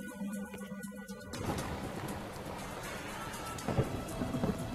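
A rumble of thunder in the Amazon gives way to a steady downpour of heavy rain drumming on surfaces, dense and continuous, with a few louder drops near the end.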